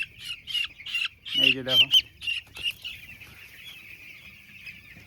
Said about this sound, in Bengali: মুরগির বাচ্চা দেখছো, আজকে 7 দিনের বাচ্চা মুরগির